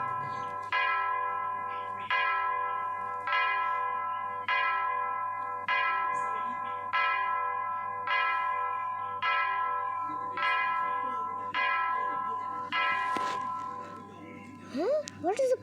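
Church bells toll in a slow, steady series of about a dozen resonant strikes, each ringing out and decaying before the next, with a low hum underneath and a brief rising tone at the end.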